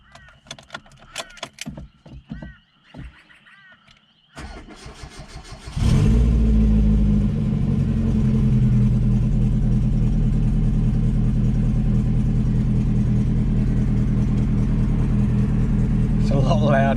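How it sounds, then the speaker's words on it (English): A car engine starts and revs after an exhaust leak repair, preceded by key jangles and clicks, then settles into a loud, steady, rumbling idle that fills the rest of the clip, heard close with no talk over it. "So now it's time to start it and see if that leak is fixed."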